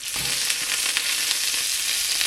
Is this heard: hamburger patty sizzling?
yes